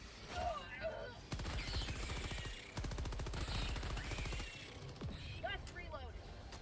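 Helldivers 2 gunfire comes in rapid automatic bursts, two long rattling volleys of dense shots set among scattered clanks and effects.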